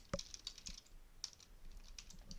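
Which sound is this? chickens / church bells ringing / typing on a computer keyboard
typing on a computer keyboard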